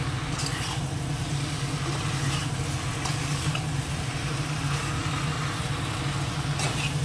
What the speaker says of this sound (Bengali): এইভাবেই আজকে এটাকে কষিয়ে নেবো খুব ভালো করে একদম তারপরে জল দেবো